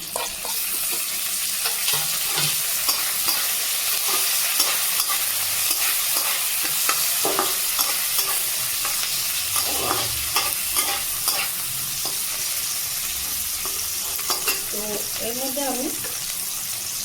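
Maggi noodles frying in a pan as chopped tomato is added, a steady loud sizzle with intermittent scraping stir strokes throughout, close up and continuous, with faint background voices.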